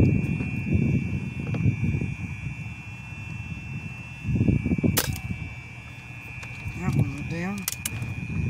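PCP air rifle, a Brocock Concept Lite .22, fired once on high power at a target about 30 yards away: one sharp crack midway, over a steady thin whine and background rumble.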